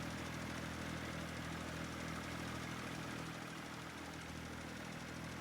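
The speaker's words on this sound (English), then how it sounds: "Oh, this tractor is struggling to get up this hill." A farm tractor engine labours up a hill, giving a faint, steady, low drone that stays constant throughout with no talking.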